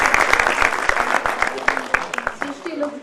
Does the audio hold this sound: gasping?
no